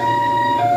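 An ambulance siren sounds at a pedestrian crash scene at a road intersection in Changhua, Taiwan: a brief, loud, steady wailing tone held close by, with no voices.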